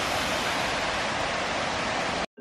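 River water rushing in a steady, dense broadband roar, loud and close, continuous with no other sounds before cutting off abruptly at the end.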